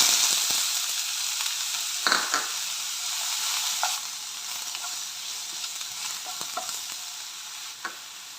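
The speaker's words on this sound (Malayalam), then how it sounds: "ഉള്ളി വഴറ്റുമ്പോഴേ ഇട്ട് കൊടുക്കുന്നുണ്ട്" Sliced onions frying in hot oil in a pan, giving a continuous loud hissing sizzle with a few occasional scrapes and clinks of stirring, heard up close.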